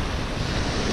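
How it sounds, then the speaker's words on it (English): Surf breaks and washes along the Freycinet Peninsula coast in Tasmania, a steady broadband roar of sea waves mixed with gusting wind buffeting the microphone, loud and continuous with no speech. "Check out that sea."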